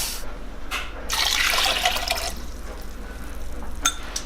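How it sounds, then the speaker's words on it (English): Water runs from a tap into a pot of red kidney beans, a steady splashing fill with a louder surge in the middle, heard close with no talking. "And then you want to cover the beans with about twice as much water."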